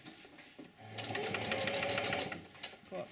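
A sewing machine stitches canvas moccasin uppers in a rapid, steady burst of needle strokes lasting a couple of seconds, close and fairly quiet, with short gaps of silence on either side.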